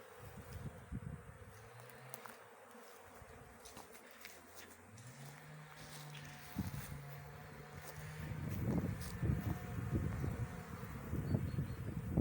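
Honeybees on an orientation flight swarm around an apiary with a steady, dense buzzing and droning that grows busier and louder toward the end, along with some wind noise and no speech.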